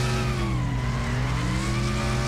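A car drifting in the Wreckfest racing video game, a loud continuous engine drone with a sustained tire squeal, sweeping slightly in pitch over a couple of seconds.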